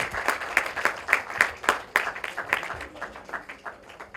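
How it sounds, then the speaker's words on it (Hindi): An audience at a film trailer launch event applauds, with a quick run of fairly soft claps that thins out toward the end, without talk over it. "हाँ तालियां बज रही हैं।"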